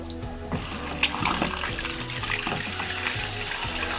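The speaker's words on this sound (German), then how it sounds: "Wasser läuft." Water runs steadily from a single-lever mixer tap into a sink, a continuous rushing wash with a few small knocks and clunks of handling near the start.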